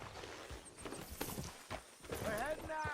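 Horse hooves clip-clop along a dirt path in Red Dead Redemption 2, a quick uneven rhythm close by, with a brief whinny near the end and game characters talking over it.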